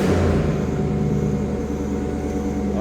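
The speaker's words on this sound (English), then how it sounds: "Let's fire this one up. This car sounds good. It's got a little bark to it." Engine of a 2002 Chevrolet Camaro Z28 35th Anniversary Convertible running close up, a steady low V8 rumble with a slight bark, loud and alone.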